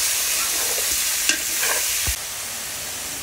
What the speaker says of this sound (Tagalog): Halo-halo lang po.